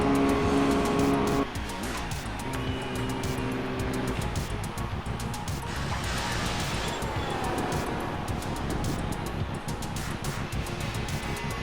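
A race car in Gran Turismo 4, driven with heavy nitrous use: a loud, continuous engine roar with rising and falling pitch, tire squeal, and a shift in tone early on.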